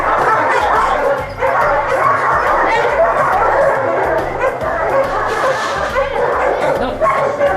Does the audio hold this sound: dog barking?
yes